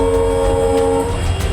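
A train running fast along the Deepor Beel wetland, heard as a loud, steady rumble with a sustained horn tone over it, close by and without speech.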